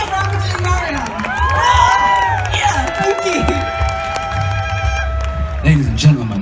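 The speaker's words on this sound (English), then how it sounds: "So can I have a cheer for I'm doing Mariana?" An outdoor comedy audience at the Walthamstow Garden Party cheers and whoops loudly, shouts and calls rising over a crowd roar for several seconds.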